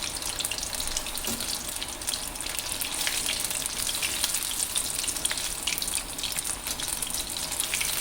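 Amritsari fish fry crackles in hot oil, an even, continuous sizzle held at a moderate level with no talking.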